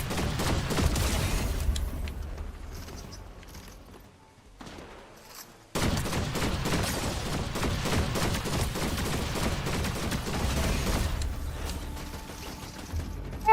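Bursts of gunfire and weapon mechanics from a Fortnite match, loud and dense, with a brief quieter lull partway before the shooting resumes.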